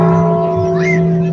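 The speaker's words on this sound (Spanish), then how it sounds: "concluye este momento con el cierre de las campanas de la parroquia de San Miguel Arcángel" Church bells of the parish of San Miguel Arcángel in San Miguel de Allende ring with steady sustained tones during an outdoor Christmas tree lighting event, under a faint crowd murmur.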